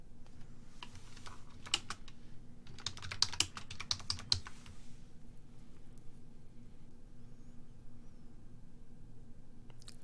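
Typing on a computer keyboard comes as a close burst of quick, crisp key clicks for a few seconds, then stops, leaving a quiet room hum.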